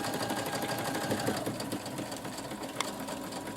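Sewing machine stitching the hem of a skirt, a steady fast mechanical whir running without pause, close and moderately loud, with no one talking.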